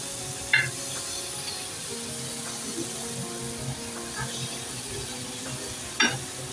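Big prawns coated in masala frying in a pan, a steady close sizzle with a few sharp scraping stirs near the start and end, no talking.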